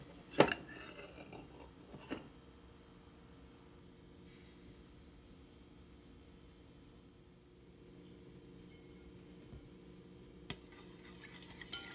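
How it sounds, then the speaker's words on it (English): A metal spoon is lifted from a pot of milk while making homemade yogurt, giving a few faint, scattered clinks of cutlery against the pot over a quiet kitchen background. "let me get one more spoon out of there"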